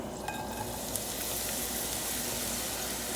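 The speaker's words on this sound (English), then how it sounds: "You hear that sizzle? That's what you want. Nice and hot." A steady, bright sizzle of mushrooms frying in a hot pan with olive oil, continuous and close, with a few faint clinks and no talking.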